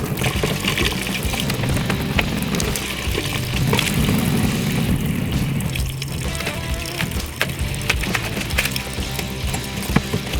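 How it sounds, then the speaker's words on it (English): Water drains from a house's hot and cold plumbing lines into a utility sink, a steady rushing, gurgling flow with some faint metallic clicks, loud and continuous throughout. "the rest of the hot and cold lines all drained here"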